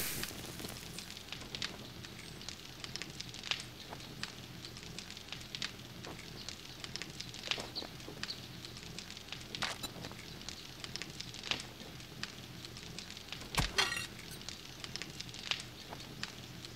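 Meat frying over a campfire in the survival game 7 Days to Die, a steady sizzling crackle with scattered sharp pops running throughout at low level, no voices.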